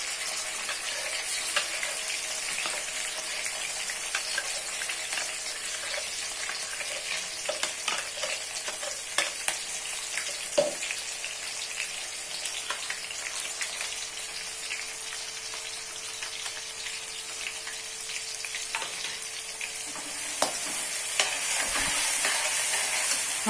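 Chillies sizzle in a pan on low heat for a Kathiyawadi sabji, a continuous close frying hiss broken by frequent scraping stirs and occasional clinks of a spoon against the pan.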